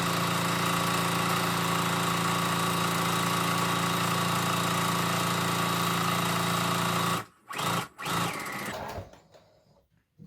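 Sewing machine stitching around a fabric scrub cap runs in a loud, steady hum for several seconds, then stops and starts in two short bursts before going quiet.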